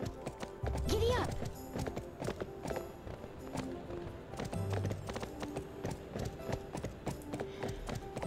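Rhythmic hoofbeat clip-clops of a horse in the Barbie Horse Adventures: Wild Horse Adventures video game, steady and fairly close, with a brief whinny and a speaking voice over the gallop.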